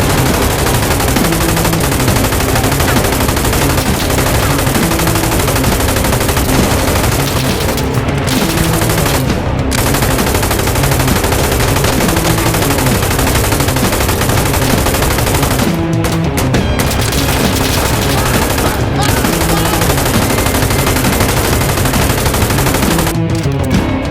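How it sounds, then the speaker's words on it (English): M249 SAW light machine gun in Insurgency Sandstorm fires long, dense automatic bursts, loud and close, with only a few brief pauses between strings of rapid shots. "the FN Mini-Me, also known as the M249 SAW, has remained one of the most effective machine guns in the world."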